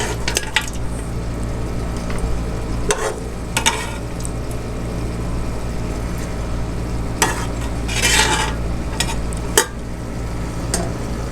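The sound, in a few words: mutton being fried and stirred in a pot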